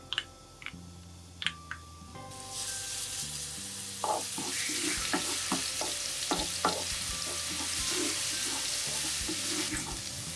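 Blanched Korean fish cakes are stir-fried in a pan without oyster sauce or sugar: after a few clacks of utensils, a steady sizzle rises and continues with repeated scraping and stirring strokes against the pan, close and fairly loud.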